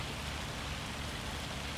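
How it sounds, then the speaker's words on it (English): Steady, dense patter of rain falling in the video game Farming Simulator 25, a continuous even hiss with low rumble, unbroken and without talk. "God, it's really annoying that it's raining though in game."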